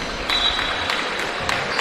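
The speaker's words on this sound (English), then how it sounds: "Round of applause for Andre" Scattered applause from a small crowd at a preseason basketball game between Manchester Magic and Cheshire Phoenix, brief and moderately loud, with a few sharper claps standing out.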